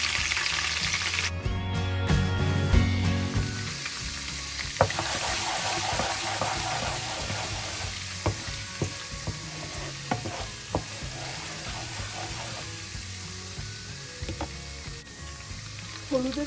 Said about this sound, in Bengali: তেলের মধ্যে তারপর আমি এখানে দিয়ে দিয়েছি হলুদ।